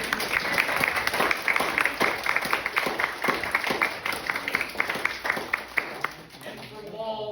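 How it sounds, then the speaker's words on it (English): An audience claps for a guest speaker at a talk, a steady patter of individual claps fairly close by that thins out near the end. "Let's give Frank another round of applause"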